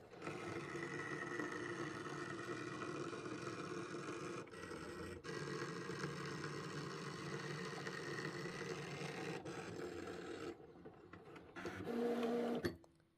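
An embroidery machine's auto blade cuts appliqué fabric, a steady mechanical whir and rapid stitching chatter broken by short pauses and a final brief buzzing burst, fairly quiet and close.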